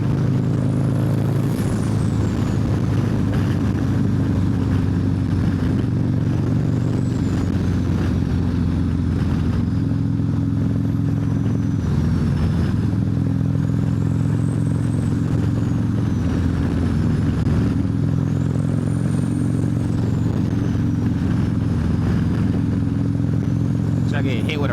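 A turbocharged Harley-Davidson CVO motorcycle rumbles steadily through Los Angeles traffic, its deep, continuous engine drone close and loud throughout, with a rider talking over it.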